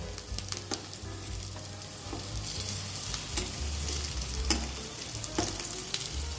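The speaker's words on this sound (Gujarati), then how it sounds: "હવે તેને ચમચાની મદદથી પલટાવી દેશું।" Raw banana pieces sizzle steadily in hot oil in a kadai, with occasional sharp clicks and scrapes as a spoon turns them over; close and continuous, with no talking.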